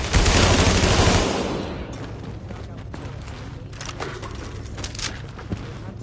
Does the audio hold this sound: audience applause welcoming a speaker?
no